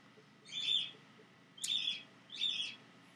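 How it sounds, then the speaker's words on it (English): Pet birds indoors call out in three loud, shrill chirping bursts spaced about a second apart, clear and close against a quiet room hum. "My birds are yelling."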